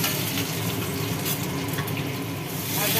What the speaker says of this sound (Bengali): ফোড়নটা একটু ভেজে নিয়ে